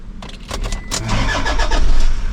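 A truck or SUV engine cranks with a few rapid starter bursts, catches and settles into a steady, loud running rumble close by, with no speech.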